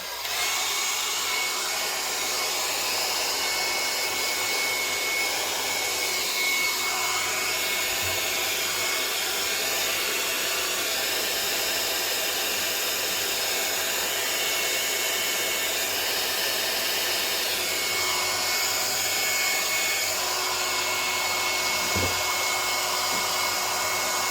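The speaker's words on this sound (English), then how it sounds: "So I use a hair dryer" A hair dryer drying wet watercolor paper blows steadily for the whole stretch, a constant loud whooshing hum with no talking and only small shifts in tone.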